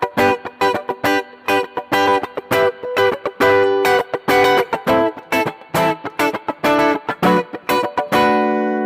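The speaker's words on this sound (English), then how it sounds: "it looks like I'm strumming all the strings because I'm holding all the strings, but I'm actually aiming for the top" Electric guitar strummed on only the top four strings in a steady rhythmic pattern of sharp, bright chords with short muted gaps, close and loud, ending on a ringing sustained chord.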